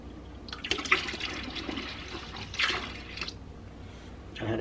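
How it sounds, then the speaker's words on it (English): Drain cleaner mixed with warm water poured into a slow-draining sink, giving a trickling, gurgling liquid sound close by with a few splashy bursts and a final louder gush. "And now I'm gonna pour it in."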